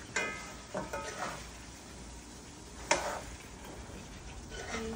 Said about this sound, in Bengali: এই যে গরুর মাংস গরম হইতেছে এখানে